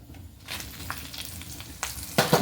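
Chillies frying in coconut oil while stems of greens are cooked for a palya: a steady close sizzle with a few sharp crackles and pops, growing louder near the end, with no talk.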